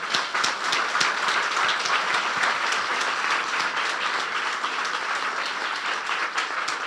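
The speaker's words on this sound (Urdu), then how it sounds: "اس زندہ کلام کے لیے زوردار تالیاں بجائیں." A church congregation at a Good Friday service breaks into loud, sustained applause, dense clapping from many hands filling the space evenly throughout.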